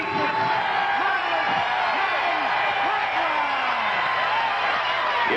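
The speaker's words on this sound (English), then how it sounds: "You can tell by the sound of the crowd" Boxing arena crowd roaring and cheering for middleweight Marvin Hagler before his fight with Bobby Watts, a dense, steady wall of crowd noise with scattered shouts and whoops throughout.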